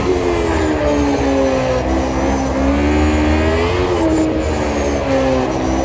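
A 1988 Formula 1 race car engine in the Automobilista 2 racing game, a loud continuous high-pitched wail rising and falling in pitch through shifts and corners, close and alone for the whole stretch.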